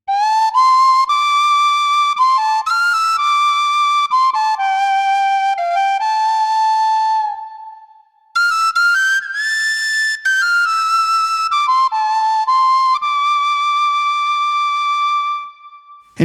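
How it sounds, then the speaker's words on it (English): A synthesized tin whistle from WinPack 3 for Native Instruments Kontakt, played on a wind controller, plays a lively, ornamented melody, bright and breathy, with a brief pause midway before the tune resumes. "This is the tin whistle from WinPack 3"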